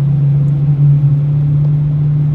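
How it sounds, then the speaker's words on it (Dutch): Loud exhaust of a Lexus IS200 TTE Kompressor race car at Zandvoort, a steady deep droning rumble close by, holding constant throughout with no voices. "Dat is een uitlaat die lawaai maakt."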